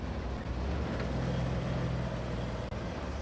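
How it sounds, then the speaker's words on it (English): A truck engine idles steadily in the background, a continuous low rumble holding through the whole stretch with no talk over it, in a junkyard setting. "You said the truck is running? Is it running well? You can listen to it in the background."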